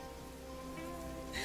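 Steady downpour in Genshin Impact, a soft, even hiss of rain falling on surfaces, quiet and continuous, with game music tones running underneath.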